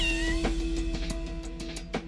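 Several cats meow repeatedly, short overlapping cries one after another over a steady low hum, fairly close.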